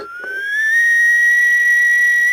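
A voice imitates an eerie, piercing whistle, a single rising tone that climbs and then holds steady, loud and close, with no other sound.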